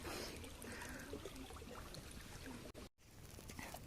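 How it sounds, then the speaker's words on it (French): A small stream trickles and babbles beside the temples of Angkor, a soft, steady wash of water heard alone and faint, with one brief dropout near the end. "Avec le son de la rivière"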